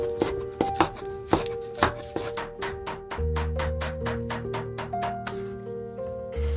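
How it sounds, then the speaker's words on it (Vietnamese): A knife minces shrimp rapidly on a cutting board, at first in uneven strokes and then in a fast, steady rhythm, with a low musical drone underneath. "Dùng dao cắt nhỏ ra rồi băm nhuyễn ra nè."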